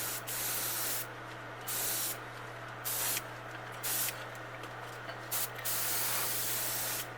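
An airbrush sprays paint onto a bluegill fishing lure at an angle in short bursts, a close steady hiss starting and stopping about six times over a constant low hum.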